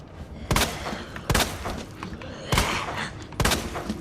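Four loud, separate gunshots from the video game Resident Evil 2 Remake, spaced about a second apart over a low ambient rumble.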